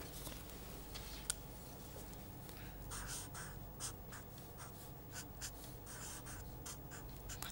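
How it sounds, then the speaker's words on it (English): Pen or chalk writing out a velocity transformation formula, a steady faint scratching with quick strokes and small taps throughout, close and alone without talk. "Let me write the formula just to be sure."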